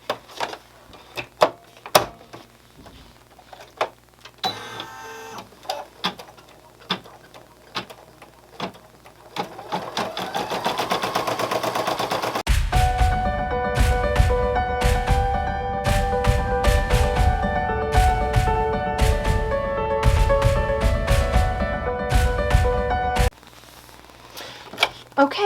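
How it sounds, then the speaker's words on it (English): Embroidery machine stitching a felt toy dinosaur design in orange thread, a rapid mechanical chatter that builds in after scattered handling clicks and runs steadily for several seconds before stopping abruptly. "I'm going to go ahead and start with step number 1 of this design."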